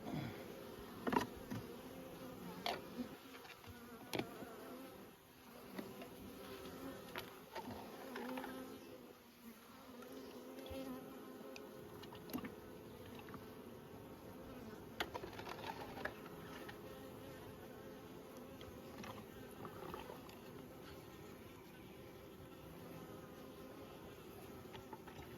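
Honey bees buzzing steadily around an open hive at Nymboida while being fed syrup and pollen substitute, a constant close insect drone with occasional louder passes near the listener.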